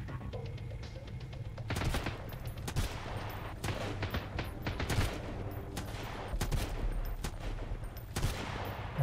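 Gunfire in the Sunkenland video game: scattered bursts and single shots, some distant and some closer, crackling across a continuous noisy backdrop with no talk.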